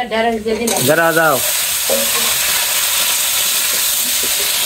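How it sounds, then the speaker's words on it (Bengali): Onions fry in a pan with a loud, close sizzle and hiss, broken by a brief tonal whine near the start and a few soft stirring knocks. "আর একটু পেঁয়াজ ভাজা হোক।"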